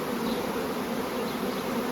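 Dense, steady hum of many honey bees packed into a queen-rearing starter colony, close and continuous with no voices.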